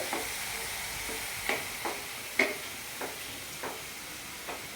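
Spinach masala for garlic palak paneer sautés in a pan, a gentle steady sizzle broken by a handful of spaced spoon taps and scrapes, close and without talk.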